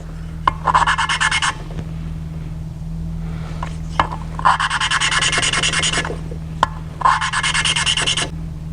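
Porsche 911 997.2 turbo engine valves being lapped against their valve seats: three bursts of gritty rasping, each lasting about a second, separated by quieter pauses with faint taps, over a steady low hum.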